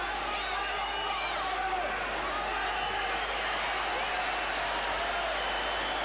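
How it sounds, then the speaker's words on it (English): Dense, steady crowd roar fills a boxing arena during the Tony Lopez vs Jorge Paez fight, loud and continuous as spectators react to slapping attempts, with no clear breaks or peaks. "Crowd reacting against the slapping attempts of Jorge Paez."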